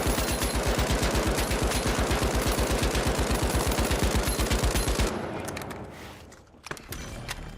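Two guns fired akimbo in a video game blaze in a fast, steady automatic stream for about five seconds, loud and close, then stop sharply and leave quieter game ambience with a few faint clicks.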